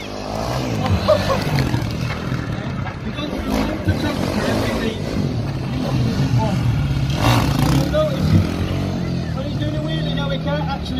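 Yamaha quad bike engine droning and revving steadily during a stunt show, loud and continuous with crowd noise and talking over it.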